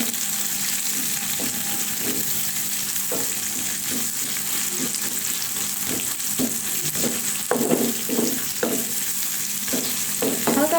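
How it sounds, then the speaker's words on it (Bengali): Chopped onions and green chillies fry steadily in hot oil, a constant close sizzle broken by repeated scraping stirs of a spatula against the pan. "এখন তেলের মধ্যে আমি পেঁয়াজ কুচিগুলো ছেড়ে দিচ্ছি। পেঁয়াজ মরিচগুলো হালকা করে ভেজে নিব।"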